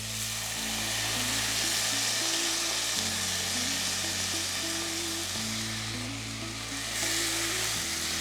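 Soaked basmati rice sautés in a pan over a high flame with a steady, loud sizzle and occasional stirring scrapes. A low tonal hum runs underneath, and there is no talking.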